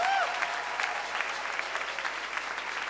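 A church congregation applauding and cheering in praise, with a continuous wash of clapping and a few raised voices throughout.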